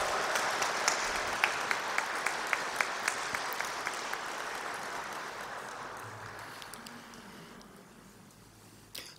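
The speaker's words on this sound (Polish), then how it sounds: "Brawa." Applause from the audience at a school concert, a broad wash of clapping with a few sharper claps near the start, gradually thinning and fading away toward the end.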